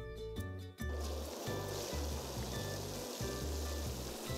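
A cartoon tanker truck sprays water in a steady, full rush of hissing spray, loud and continuous after a brief start, with a light tonal musical backing underneath.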